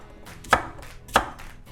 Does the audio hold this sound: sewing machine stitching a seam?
no